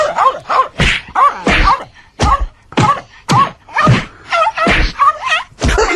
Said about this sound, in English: That's someone beating up a dog.